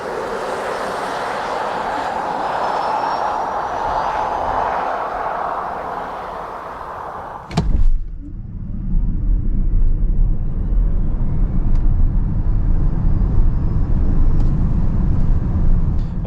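A VW ID.4 GTX electric car with 299 hp is heard from inside during a 0-100 km/h run. A steady cabin hum gives way after a sharp click to loud, deep road and tyre rumble with a faint rising motor whine.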